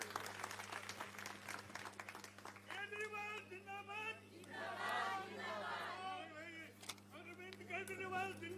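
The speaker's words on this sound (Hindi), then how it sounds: "अरविंद केजरीवाल जी के लिए जोरदार तालियां बजाइए" Audience applause for Arvind Kejriwal at a public event in Delhi, a steady wash of clapping with crowd murmur and cheering swells, running continuously under a low electrical hum.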